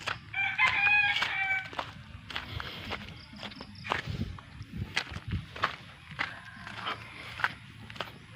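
Chickens clucking close by with a rooster crowing loudly near the start, plus scattered footsteps and rustling around the birds.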